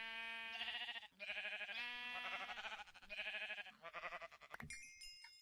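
Sheep bleating in the Minecraft video game, several wavering, nasal bleats following one another closely and loudly, with a brief clatter near the end and no talking.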